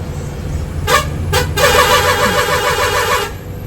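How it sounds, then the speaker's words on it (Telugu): A loud sleeper bus horn gives two short blasts and then one long sustained honk over a rumbling engine, on a monsoon journey. "మా బస్ది హార్న్ చాలా డిఫరెంట్గా ఉంది. భయ్ एक बार హార్న్ మారో."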